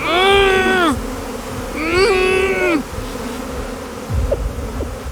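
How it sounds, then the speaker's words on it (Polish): A swarm of bees around someone covered in them, loud and close: two long droning buzz bursts, then quieter fainter buzzing and brief passes near the microphone. "jesteś cały pokryty pszczołami"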